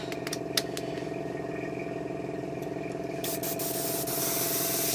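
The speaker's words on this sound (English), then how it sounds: "I'm actually going to stick it through the airbrush" Airbrush hissing steadily as it sprays paint onto a 1/32 T-800 endoskeleton model kit, with a constant compressor drone underneath and a few short bursts and clicks near the start.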